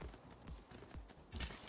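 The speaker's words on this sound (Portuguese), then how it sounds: "Vamos dar um rolê agora com esse cavalo aqui." Horse hooves clip-clopping in the strategy game Civilization VI, a quiet, regular trot of soft hoof beats at a steady rhythm, faint and close with no other sound on top.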